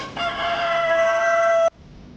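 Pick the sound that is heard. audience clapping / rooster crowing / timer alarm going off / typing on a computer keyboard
rooster crowing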